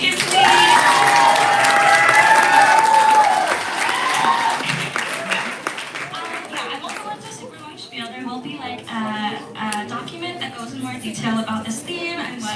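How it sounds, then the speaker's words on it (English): An audience claps throughout a First Gen livestream event, loud and steady at first, then thinning into scattered claps and cheers while a voice talks over it. "Can we get one more round of applause for Megan, please?"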